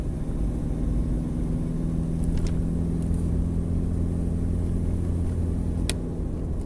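A car travelling along a road, heard from inside the cabin as a steady engine drone and tyre rumble at an even level, with a few faint clicks and no speech.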